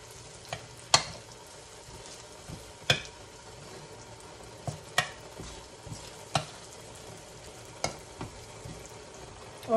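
Pork seasoned with vinegar, pepper, garlic and fish sauce fries with bean sprouts in a pan, a soft steady sizzle broken by irregular sharp clacks of a utensil stirring against the pan, with no voices.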